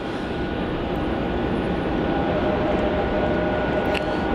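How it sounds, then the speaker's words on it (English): Airbus A350-1000 airliner landing at Melbourne Airport, a steady broad jet roar that holds loud and constant from start to finish, with no pauses or voices over it. "Beautiful landing there from that A350-1000."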